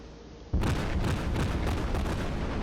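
Main guns of the Furutaka heavy cruiser firing armor-piercing shells in World of Warships: a heavy, booming salvo bursts in suddenly, followed by a sustained roar and rumble of rolling reports with no voices.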